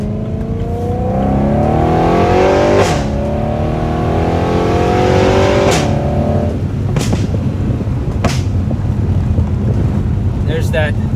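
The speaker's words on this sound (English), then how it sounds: "There's that upshift noise" A BMW E93 M3 convertible with a dual-clutch transmission climbs through its gears, the engine note rising in loud, close sweeps cut by several sharp, quick upshifts amid wind noise.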